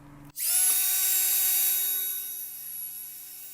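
A power drill with a sharp 1/16-inch bit boring into plastic beekeeping equipment, starting abruptly after a click and holding a steady high whine for about three seconds before slowly easing off.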